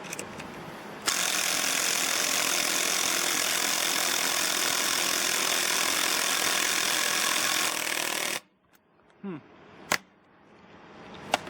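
A cordless 12V impact driver drives 3-inch screws into wood: a loud, continuous hammering rattle for about seven seconds, then it stops abruptly, leaving a few faint clicks and knocks.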